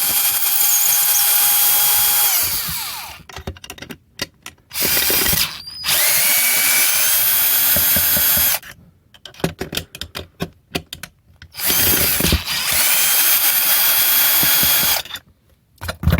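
A power tool driving out thread-locked screws from a street light cover, in loud, close bursts of whirring and rattling separated by short pauses. Each burst lasts a second or two and repeats several times.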